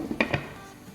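A metal pot lid clanks down over a biryani pot holding a foil cup of smoking coal, two quick faint clinks in close succession followed by quiet.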